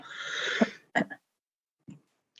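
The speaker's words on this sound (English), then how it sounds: "I got a cough." A single throaty cough bursts out after a stretch of low voice, followed by a couple of short, quieter coughs; close and otherwise quiet.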